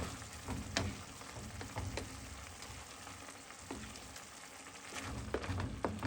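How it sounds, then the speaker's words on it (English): Beef macaroni with pasta sauce is stirred in a sizzling pan with a spatula, giving soft intermittent scrapes and clicks over a steady frying hiss that continues at low, even loudness. "Let me get this stirred up."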